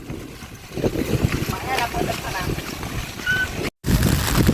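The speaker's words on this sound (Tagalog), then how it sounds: "Lumakas pa yung hangin mga idol." Strong wind gusts roar across the microphone outdoors in the rain during a kite flying outing, a loud continuous rushing noise with a brief dropout near the end and voices faintly mixed in.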